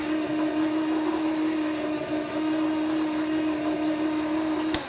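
An electric stand mixer fitted with a paddle whirs steadily as it combines creme brulee custard, a continuous even motor hum that holds close and loud for the whole stretch, with no talking over it.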